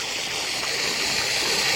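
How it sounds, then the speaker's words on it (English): Water pump running and forcing water out through a diffuser, a steady close rushing spray with broad hiss throughout and no talk. "So the pump is now on. Water is feeding in and shooting out through the diffuser."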